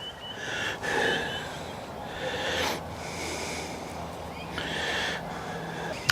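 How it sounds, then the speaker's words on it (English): A dog makes soft snorting, whining vocal noises in the background, breathy and intermittent, over a low steady hiss. "You'll hear in the background that Millie's translating it into Doglish"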